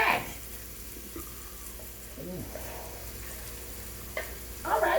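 Crawfish fry in a pan with a soft steady sizzle, a few clinks and stirring scrapes near and fairly quiet throughout.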